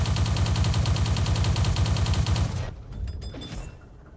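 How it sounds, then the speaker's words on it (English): Wiesel 1 MK autocannon in the tank game World of Tanks, firing a rapid, loud, evenly spaced burst of shots for over two seconds, then stopping into quieter clanks and faint background noise. "But it's so tempting to fire the gun."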